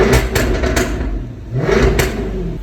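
Jaguar F-Type R V8 revs in short bursts, its exhaust crackling between blips; several sharp throttle stabs come close and loud, separated by a brief dip.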